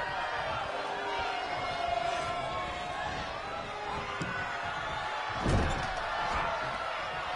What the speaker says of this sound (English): Slams Rex's head into the top turnbuckle, makes the tag.